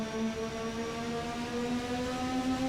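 A McLaren MP4/4 turbo Formula One engine in Assetto Corsa held at steady revs on 50% boost, a loud continuous harmonic drone that rises slowly in pitch as the revs build, with no talking.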